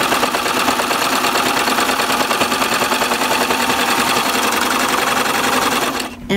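A 4-thread serger running fast through sweatshirt fabric, a loud, close, continuous mechanical whir that stops abruptly at the end.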